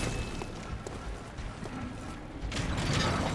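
Heavy door in the Bloodborne video game creaking and grinding open, a continuous mechanical rumble with ratcheting clicks that swells louder toward the end, no talk over it.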